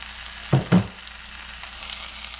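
Spiced brinjal rice mixed gently in a frying pan, two quick close scraping strokes of the spoon over a faint background sizzle.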